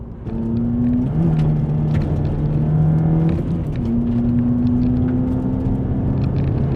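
A 2011 Mazda 2 on Bridgestone Blizzak WS80 winter tires drives on snow at about 60, heard from inside. A steady engine drone carries a tonal whine that shifts pitch briefly as the car goes on, loud and continuous.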